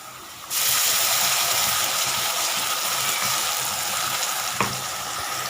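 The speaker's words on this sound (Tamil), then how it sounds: "இப்போ இந்த பேஸ்ட் போட்டு வதக்குவோம்" Onion-garlic paste hits hot oil in a pan with a sudden burst of sizzling, then settles into a steady, close frying hiss with a soft scrape of stirring near the end; no one speaks.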